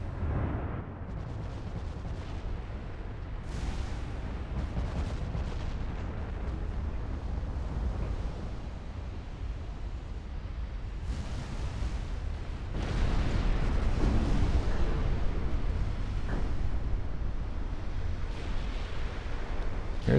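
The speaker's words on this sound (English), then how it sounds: "This poor battlecruiser, not even a torpedo hit, just accurate 18-inch fire." Heavy 18-inch naval gunfire from a battleship duel in the game Ultimate Admiral Dreadnoughts: a continuous deep, rumbling barrage of booms and crashing impacts, swelling louder near the end, with no voices.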